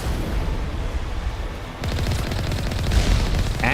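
Automatic weapon fire from the Mass Effect video game, a rapid rattling burst that kicks in partway through after a stretch of dull rumbling background, loud and steady until the end.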